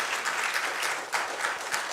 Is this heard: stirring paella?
no